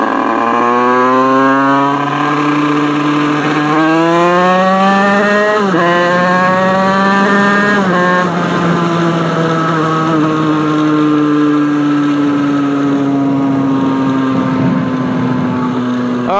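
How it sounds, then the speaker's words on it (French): A Yamaha YZF 125 motorcycle with a wish exhaust, engine hot in the heat, loud and close, revving in rising and falling sweeps and holding a steady buzzing drone. "on va tester sa moto, donc c'est une 125 YZF de chez Yamaha"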